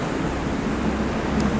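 A ferry crossing the harbour to Devonport in fog, with a steady broadband rush of water and wind against the hull, continuous and fairly loud with no talking.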